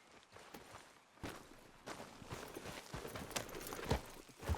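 Horse hooves clip-clop in Red Dead Redemption 2 as a horse walks outdoors, a fairly faint, uneven series of thuds that grows a little louder and busier over a few seconds, with no talk.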